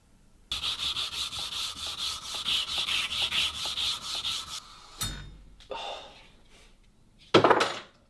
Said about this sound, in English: The idea behind attaching this little piece of leather to my hand sanding stick was that the leather was softer than the file itself